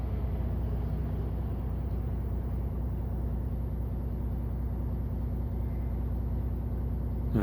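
Steady, dense car traffic rolls along the Bordeaux ring road near Pont François Mitterrand, heard as a continuous broadband road roar from inside a moving vehicle, with no speech.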